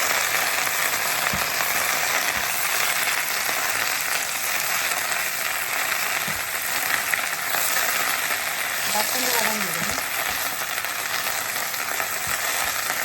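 Wet leaves of a medicinal herb crackling and sizzling in hot oil, a dense continuous frying hiss close up, with a few faint knocks of a utensil and no voices.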